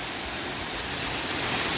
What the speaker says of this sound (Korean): 여기는 위쪽에도 이렇게 폭포가 있어요.